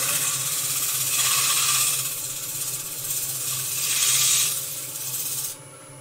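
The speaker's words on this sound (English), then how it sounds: "I've got a bit of sandpaper here" Sandpaper rubs back and forth over a painted surface to strip paint while making a stencil, giving a continuous, close, rasping scratch that swells and eases in long strokes before stopping abruptly.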